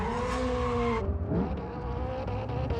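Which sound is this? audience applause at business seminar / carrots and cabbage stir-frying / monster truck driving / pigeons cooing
monster truck driving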